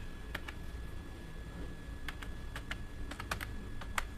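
Keys on a computer keyboard are typed while a Linux reboot command is entered, sparse light clicks in short uneven bursts, close and fairly quiet over a low steady hiss.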